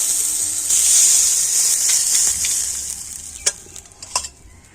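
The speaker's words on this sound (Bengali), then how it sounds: "তো এই কিছু তেলের সাথে একটু ভেজে নিতে হবে" Coconut mixture frying in oil in a pan, a steady bright sizzle and hiss running throughout, with a few sharper scrapes of stirring near the end, close and alone.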